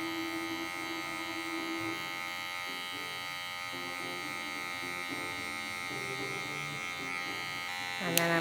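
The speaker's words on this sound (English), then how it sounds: "I'm going to take the clipper into it." A steady electric hair clipper buzzes continuously while trimming hair during a mullet haircut at a barbering academy, with a faint rising whine and a brief clatter at the very end.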